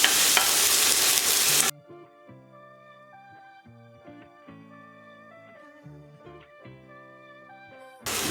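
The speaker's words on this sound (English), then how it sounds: "in with my onion at first. I'm going to saute this for about 2 minutes" Onion sautéing in oil in a pan gives a loud, close sizzle for under two seconds, then melodic background music takes over before the sizzle briefly returns at the end.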